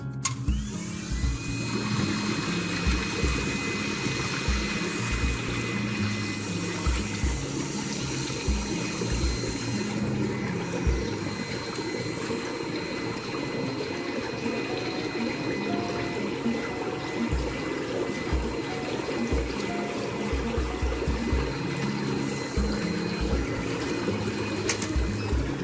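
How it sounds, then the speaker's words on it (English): An Intex PureSpa bubble massage hot tub runs with a steady, fairly loud blower hum and churning bubbles frothing continuously, unchanging throughout. "So the bubbles are kind of noisy, but they're very relaxing."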